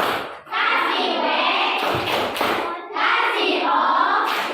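Children in a classroom clap together in rhythmic bursts, with a short pause between rounds, close and loud.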